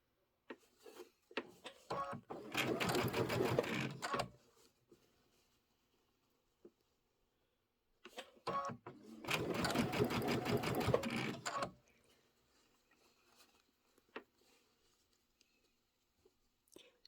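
Sewing machine stitching pom-pom trim in two bursts of steady, rapid needle chatter of a few seconds each, separated by quiet handling pauses and faint rustles.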